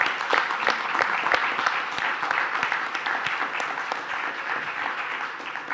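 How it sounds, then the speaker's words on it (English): An indoor audience gives a round of applause, a moderately loud, even patter of many clapping hands with sharp individual claps standing out, sustained without talk. "big round of applause for these two,"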